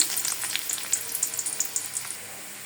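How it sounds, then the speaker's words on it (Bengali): Chopped onion sizzles steadily in hot oil in a kadai set up for frying rohu fish, with a close, continuous crackle and bursts of spatter throughout. "রুই মাছ বোনার জন্য আমি বসাই দিলাম কড়াই। এখানে দিয়ে দিচ্ছি কিছু পেঁয়াজ কুচি।"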